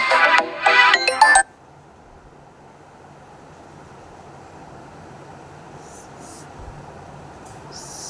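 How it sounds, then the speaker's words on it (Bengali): A phone ringtone from an incoming call chimes in a short bright melodic burst for about a second, close and clear, then cuts off into quiet room noise with faint hiss. "একটা ফোন এসে গেছিলো"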